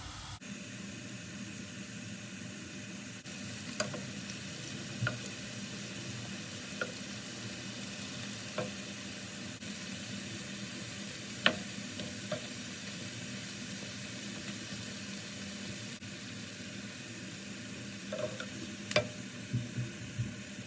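Halka tatlısı dough rings frying in hot oil, a steady close sizzle and hiss throughout with occasional soft pops and faint clicks of turning, no voices.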